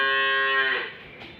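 A black dairy cow in a dark shed gives a single loud, close moo that holds steady, then fades out, with no voices.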